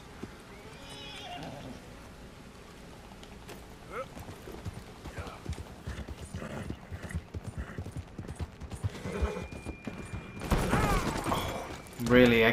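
Horse whinnies and hoofbeats clatter amid busy Red Dead Redemption 2 game sounds, growing louder and more chaotic toward the end with sharp bursts.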